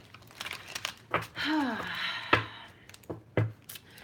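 Tarot cards riffle and crinkle in short bursts, with a few sharp taps and a quick whistling sweep, close and fairly quiet.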